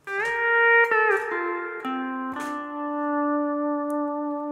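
Pedal steel guitar playing a short lick, with gliding bends between sustained notes that ring out clearly and alone at moderate volume.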